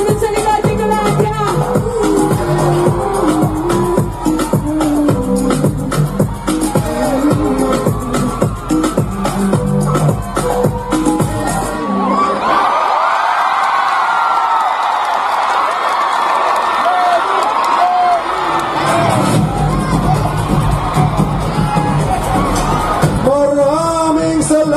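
A large crowd at a grand political rally in Naga City, Camarines Sur shouts and cheers loudly over amplified music, the roar swelling continuously with whoops throughout.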